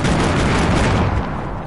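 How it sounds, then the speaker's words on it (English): C4 charge set off in a video game, heard as a loud, sustained roaring blast that fills the whole moment and tails off slightly at the end. "I'm just gonna set off one more explosion."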